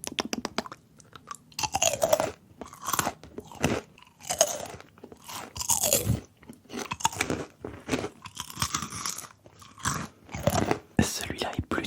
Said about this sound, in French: Goûtons immédiatement ce popcorn